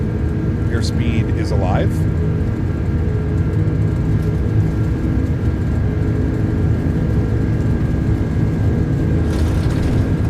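Simulated iniBuilds A330-200 engines at takeoff power in MSFS 2024 produce a loud, steady low roar that fills the whole stretch, with a brief spoken callout over it early on.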